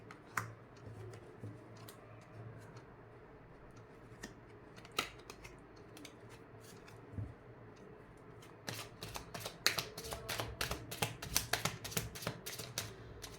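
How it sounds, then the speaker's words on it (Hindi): Tarot cards are handled quietly at first with occasional soft taps and slides, then shuffled briskly in a fast run of sharp, crisp riffling clicks toward the end, with no talking. "और भी एक बार कार्ड निकाल लेते हैं फिर करते हैं"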